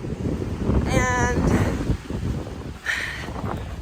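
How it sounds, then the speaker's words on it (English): Cold wind gusting across a mountain hiking trail on the Pacific Crest Trail, a steady low rumble buffeting the microphone throughout, with a person speaking briefly over it. "boy is it cold and windy"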